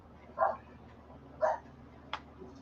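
A small dog gives two short barks, fairly close, followed by a brief sharper yip, with quiet room background between.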